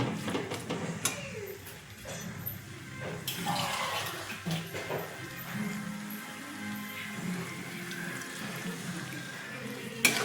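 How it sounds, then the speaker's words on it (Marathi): A little water poured into egg curry in a pan, soft splashing and pouring with light bubbling and a few clinks, close and fairly quiet without talk. "आपण एकदम थोडंसं पाणी ॲड करणार आहे"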